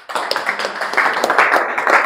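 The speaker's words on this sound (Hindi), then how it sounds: "जोर से ताली बजाओ इस बच्चे के लिए" A classroom of students claps for a classmate during a physics viva, a taxi driver's son, in a dense, steady burst of many hands lasting about two seconds.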